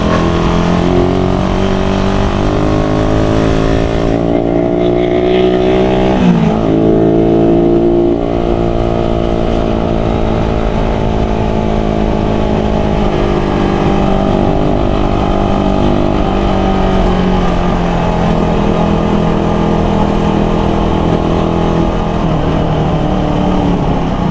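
A Suzuki Raider 150 motorcycle engine with a freshly changed spark plug runs close by, loud and steady, with smooth rises and falls in revs over about twenty-four seconds and no talking.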